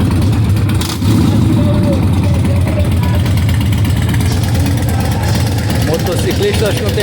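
Customized Harley-Davidson motorcycles rumble at the tail end of a motorcycle event, a dense, steady low engine roar close by with a brief dip, while someone talks over it.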